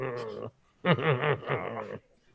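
A dog whimpers and whines in two close, high, wavering bursts with a short pause between them.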